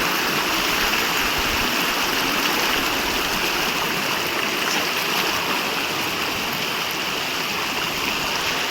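Cold stream water rushes steadily over rocks at an outdoor picnic spot near a bridge, a loud, continuous broadband roar with no break.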